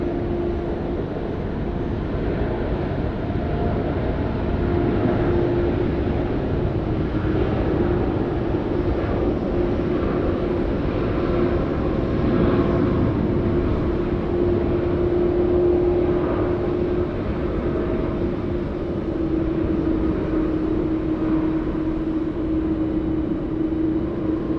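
A Qantas airliner takes off from runway 16 right at Sydney Airport, a sustained heavy engine drone with a steady hum that swells slightly and holds, heard from a distance without talk.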